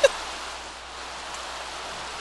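Constant rainfall in The Sims 3 gives a soft, broad, steady hiss, with a small brief tap at the very start and no voices.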